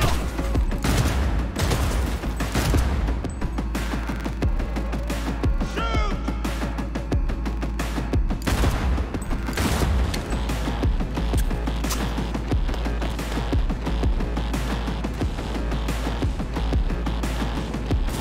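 Rapid, dense gunfire in Cyberpunk 2077, with repeated shots crackling continuously over a loud, steady background of game noise.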